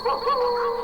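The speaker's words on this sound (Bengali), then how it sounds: "দূরে কোথায় যেন একটি কুকুর ঘেউ ঘেউ করে ডেকে চলেছে সমানে" A single drawn-out dog bark with a tonal, yelping quality, brief and fairly loud, standing alone without other sounds, in a silent night beside a jungle in a horror animation.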